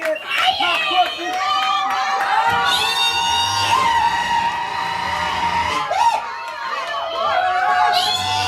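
A crowd at a church anniversary party cheering and ululating with high trilling cries, loud and sustained under shouting voices and chatter.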